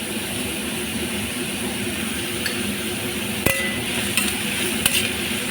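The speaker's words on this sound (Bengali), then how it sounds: "তারপরে কেটে রাখা সবজিগুলি দিলাম, দিয়ে ভালো করে ভেজে নেব।" Chopped vegetables sizzle steadily in a pan for egg chow mein, a constant frying hiss with a few sharp clinks of a utensil against the pan near the end.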